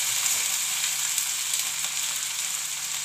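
Okra (bhindi) sautéing in a pan with tomato, giving a steady, close sizzle and crackle of frying with no talking.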